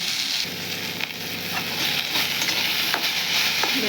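Potatoes and vegetables frying with turmeric and salt, a continuous close sizzle with crackles and the clatter of a spatula stirring through the pan, no voices.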